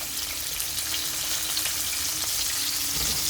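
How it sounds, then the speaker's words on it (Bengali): Sliced potatoes and long-cut onions fry in hot oil with a steady, dense sizzle that holds at an even level from start to finish. No one speaks over it. "এবার এদেরকে একটু ভালো করে ভেজে নেব।"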